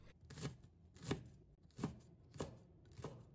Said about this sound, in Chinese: 准备几个小米椒，把它切成小圈。